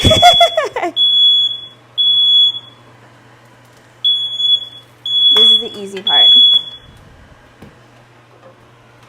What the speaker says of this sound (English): Sorry, fire alarm.